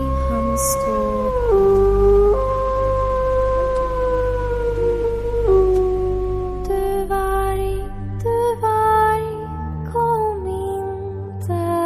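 A maned wolf howls on a farm at sunrise, long sustained wavering tones rising and falling in pitch, loud and continuous with several overlapping voices and no talk.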